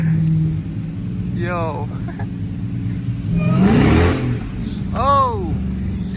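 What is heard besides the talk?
Dodge Demon Charger engine revving, wheels spinning in snow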